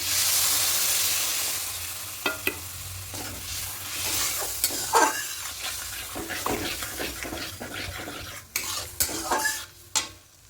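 Strained spice paste goes into a hot pan for a fish jhal curry and sizzles steadily while a spoon scrapes and stirs it in irregular strokes, close up with no talking.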